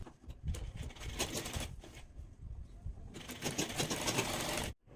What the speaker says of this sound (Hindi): जो लाइनिंग का नीचे का घेर है उसको भी हमें इस तरह से फोल्ड करके स्टिच कर लेना है चारों तरफ से